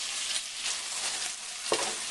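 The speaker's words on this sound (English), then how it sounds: "We're going to add in the carrots here." Carrots dropped into a frying pan of garlic and onion paste for lentil soup, giving a steady close sizzle with stirring scrapes and a sharp hit of added food near the end.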